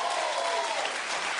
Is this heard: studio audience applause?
yes